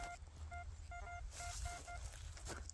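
A metal detector sounds a signal tone while someone hunts for old coins: a series of short, evenly spaced electronic beeps over low background rumble and faint rustling.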